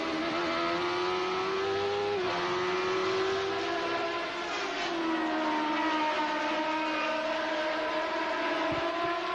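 A 1993 IndyCar race car at the Mid-Ohio Grand Prix, driven by Nigel Mansell, screams steadily at high revs with a wavering harmonic engine tone that dips briefly and climbs again, loud and continuous with no talk.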